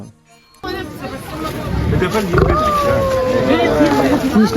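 A female tiger growls and rumbles in low, rough bursts, close by, with a crowd chattering in the background at a safari park.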